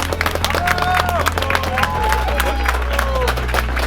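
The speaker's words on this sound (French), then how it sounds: "Est-ce que s'il vous plaît, on peut applaudir cet homme-là," A crowd claps and cheers for a man at a drift event, with steady applause and murmuring voices over a constant low engine drone and some speech babble.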